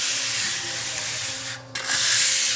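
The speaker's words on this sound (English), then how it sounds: "The last step is we take the metal trowel then." A metal trowel burnishes a freshly laid adobe clay floor, producing a continuous close scraping rub that dips briefly before resuming with stronger sweeping strokes.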